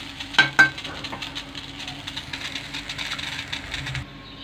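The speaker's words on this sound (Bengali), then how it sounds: "ভাজি করে নিতে হবে।" Potatoes frying in a pan for a Bangladeshi dried-fish and long-bean dish give off a steady, close sizzle, opened by two sharp clanks of a utensil against the pan.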